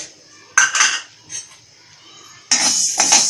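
Fenugreek seeds are dry-roasted in a pan while being stirred, with two loud bursts of metallic scraping and rattling against the pan separated by quieter gaps.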